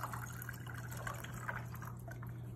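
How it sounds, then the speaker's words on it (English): Club soda poured into a cocktail glass with stevia syrup, a steady fizzing, trickling pour heard close and quiet with a faint low hum beneath, no talk. "I'm gonna add club soda to mine"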